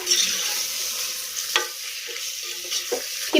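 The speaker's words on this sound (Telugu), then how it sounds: "ఇప్పుడు మొత్తం మిక్స్ చేసేసుకుందాము ఈ కారం సాల్ట్ మొత్తం మిక్స్ అయ్యేలాగా" Prawns in a cooking pot are stirred to mix in chili powder and salt, producing soft sizzling frying with a few sharp scraping strokes of the spoon against the pot, close and without speech.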